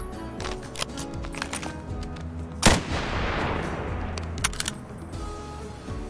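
Bolt-action rifle shots ring out in the VR game Bonelab, with one loud sharp crack and a long decaying tail in the middle, surrounded by lighter clicks and handling rattles.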